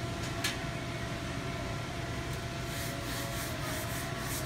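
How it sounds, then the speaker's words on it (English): A brush scrubs a supermarket shop floor coated with cleaner, a steady broadband rubbing and swishing with faint brighter strokes, close and continuous under a low background hum. "Then scrub area with brush."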